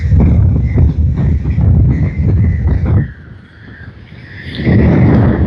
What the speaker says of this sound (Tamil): காற்று வந்து பயங்கரமாக அடிச்சு கொண்டு இருக்குது.